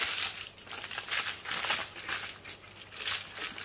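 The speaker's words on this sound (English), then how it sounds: "I might actually take it out of the foil" Aluminium foil crinkles and crackles continuously as it is peeled away from a slab of chocolate rocky road, close up with no voices.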